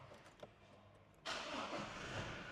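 A 2023 Toyota Revo GR Sport pickup starts up: a couple of faint clicks, then the engine cranks and catches abruptly, settling into a smooth, steady idle close by.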